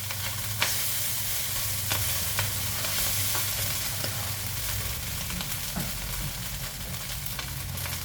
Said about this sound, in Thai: แล้วยายพนก็ใส่วุ้นเส้นค่ะ ต้องไปผัดค่ะ